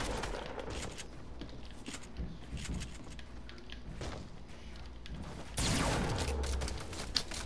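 Rapid gunfire from a Fortnite duos match, dense overlapping bursts of shots with clattering mechanical sounds, loud and continuous, swelling harder near the end.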